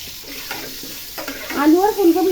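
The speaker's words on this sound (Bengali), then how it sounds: "আলু আর ফুলকপিটাকে ভালো করে ভেজে নেব" Cauliflower and potatoes frying in hot oil with salt and turmeric, a steady sizzle that swells louder in the last second, with a voice speaking over it.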